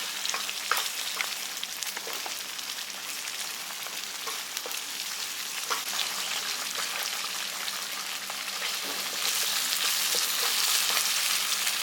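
Thuvaiyal paste made with pirandai cooking in oil, a steady soft bubbling and sputtering with scattered pops that grows slightly louder toward the end.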